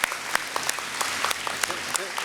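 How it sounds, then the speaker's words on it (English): A graduation ceremony audience claps steadily for the speaker, with a few sharper individual claps standing out and a voice briefly audible beneath the applause. "Let's give him a round of applause"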